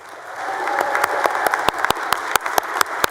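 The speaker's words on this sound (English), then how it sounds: "let's give them a big round of applause" A round of applause in a state Senate chamber, clapping that builds and thickens, with sharp individual claps standing out close by above the general patter.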